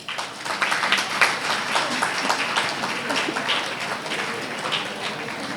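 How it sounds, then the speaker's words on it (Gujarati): An audience at a women's association foundation-day event claps in a sustained, dense burst of applause that holds steady throughout, with no voices over it. "તાળીઓ."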